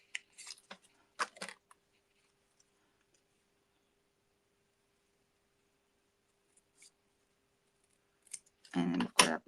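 Scissors snip roughly around scrapbooking paper for a handmade card, a few quick close cuts at the start, then a long quiet gap before a louder burst of paper handling at the end.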